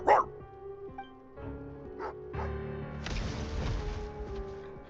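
A dog barks and yips in the video game Genshin Impact, with a sharp loud bark at the start and further yelps, mixed with game music and voices talking throughout.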